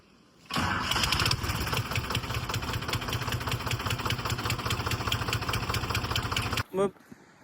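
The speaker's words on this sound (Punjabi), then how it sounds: "ਫੋਰਡ ਜਿਹੜਾ ਟਰੈਕਟਰ ਆ ਨਾ ਆਪਣੇ ਇੰਜਨ ਤੇ ਆਪਣੀ ਜਿਹੜੀ ਆਵਾਜ਼ ਆ ਇਹਦੀ ਇੰਨੀ ਘੈਂਟ ਆਵਾਜ਼ ਆ" A 1990 Ford 3610 three-cylinder tractor engine cranks and catches, then runs in a steady, loud, chugging idle for several seconds before cutting off abruptly.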